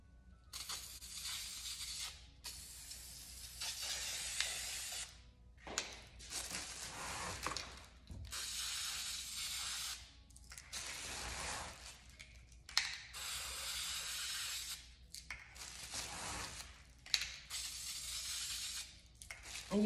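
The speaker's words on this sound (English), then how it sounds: "I'm about to spray the almond color on the base" An aerosol can sprays almond-colored paint onto the base of a glass vase in repeated hissing bursts, each lasting a few seconds with short pauses between, close and fairly quiet.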